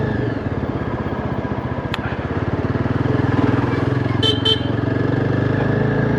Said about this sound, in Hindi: हॉर्न की जो पिच है वो ज़रूर मुझे लगता है कि थोड़ी सी लाउड होनी चाहिए थी